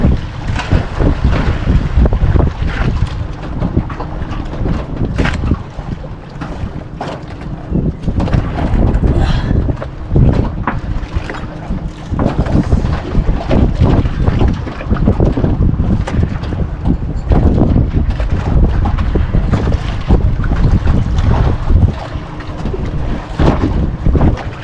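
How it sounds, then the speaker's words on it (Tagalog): A small fishing boat's engine is cranked with its starter and runs on as a loud, steady drone, mixed with strong wind buffeting the microphone and water noise throughout, with no voices. "Tingnan ko lang kung hindi magwala yung starter na yan."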